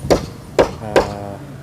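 Three sharp hammer blows on wooden formwork for a concrete beam at a house construction site, evenly spaced about half a second apart, loud and close with brief ringing after each strike.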